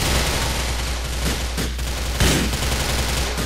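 Machine gun fire from the GTA IV video game, sustained rattling bursts that stay loud throughout, with a heavier crack near the end and no speech.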